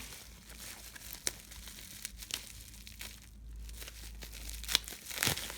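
A plastic package of cosmetics is torn open, with close, irregular crinkling and crackling bursts that rise near the end over a quiet background.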